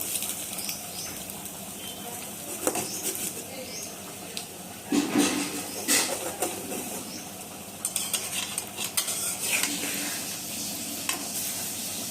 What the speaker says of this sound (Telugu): దీన్ని ఆమ్లెట్ని కూరలో వేస్తున్నానండి